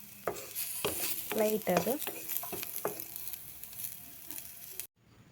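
Chopped onions frying lightly in a pan, a soft sizzle broken by scraping stirs and utensil clinks, with a brief spoken phrase, then cutting off abruptly near the end.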